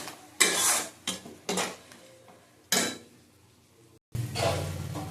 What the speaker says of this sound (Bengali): দই থেকে একটা তেল বেরোয় ভালো। আবার কষিয়ে নেবো ভালো করে।